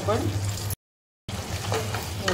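Onion and tomato sautéing in a pan for boiled-egg bhurji, stirred with a spatula, giving a steady close sizzle with scraping, broken by a brief silent gap midway.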